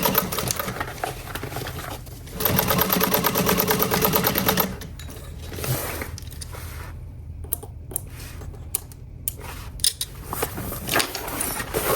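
Home sewing machine stitching the seams of a fabric pool tote shut, with bursts of rapid motor whirring and needle clatter, a short pause and backstitch run, then lighter intermittent stitching and handling clicks close up.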